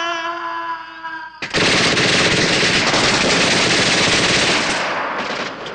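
Video game gunfire: a sustained, loud, dense burst of rapid automatic shots begins abruptly after a brief tonal hum and continues unbroken for several seconds before tailing off slightly at the end.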